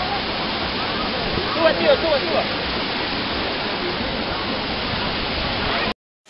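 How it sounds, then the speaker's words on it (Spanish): Cascada de la Virgen waterfall in Baños de Agua Santa roars as a loud, constant broadband rush close by, with people briefly talking over it before it cuts off. "¿Cómo se llama esa cascada? La cascada de la Virgen."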